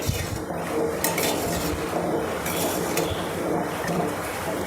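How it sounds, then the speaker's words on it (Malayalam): A spoon scrapes and clinks against a metal pot in quick, repeated strokes, up close, with a faint sizzle underneath. "അപ്പോൾ നമുക്ക് ഇതൊന്ന് ഇളക്കി കൊടുക്കാം"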